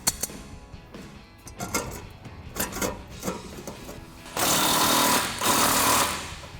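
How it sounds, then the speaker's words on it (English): A socket tool tightens an 11mm nut on a quad chrome silver exhaust tip of an AWE axle-back exhaust on a Camaro, giving bursts of rapid ratcheting clicks, then a louder sustained buzzing run near the end. "we're going to be using an 11mm socket on our nut to tighten that down"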